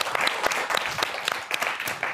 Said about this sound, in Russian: вам аплодисменты